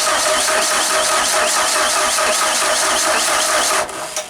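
A Genie boom lift's gas engine held at full throttle during fault diagnosis, a loud continuous roar with a rough, uneven texture that dips and fades near the end.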